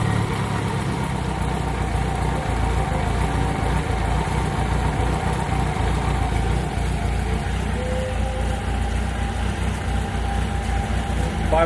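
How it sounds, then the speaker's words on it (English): A 1983 Kawasaki Spectre 1100 motorcycle idles steadily a little under 1,000 RPM after a carburetor sync, a continuous close low rumble with no talk over it. "So we got a nice steady idle out of it."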